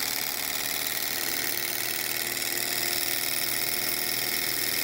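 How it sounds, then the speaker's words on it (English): A small Stirling engine running with a steady, even mechanical whir and faint rapid ticking, constant and unbroken throughout, no voices. "Ah yes, the Stirling engine."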